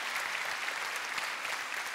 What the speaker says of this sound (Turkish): Alkışlarla tebrik ediyoruz mansiyon ödülünü